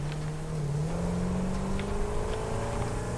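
A vehicle drives through a factory in the game Satisfactory, its engine a steady, close droning hum that slowly rises in pitch, with no voices over it.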